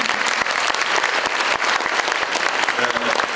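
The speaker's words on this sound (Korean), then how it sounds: "박수 부탁드립니다" Audience applause for a judge at a university debate competition final, a loud, dense burst of many hands clapping steadily throughout without any talk.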